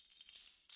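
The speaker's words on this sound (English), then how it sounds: "As a reminder, when you hear this necklace," A necklace rattles briefly, giving a light, bright jingle of small clinking pieces that shakes in two short bursts, close and fairly quiet.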